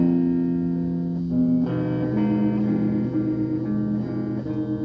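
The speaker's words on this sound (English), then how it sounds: "So putting on another one, you get distortion." A sustained, buzzing electronic tone with a harsh, distorted edge, shifting pitch a few times and carrying steadily at a moderate level with no voices.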